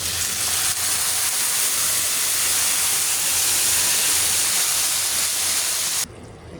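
Spices hit a pan of fried eggplant and potato, setting off a loud, steady hiss of sizzling oil that holds for about six seconds and then drops off abruptly.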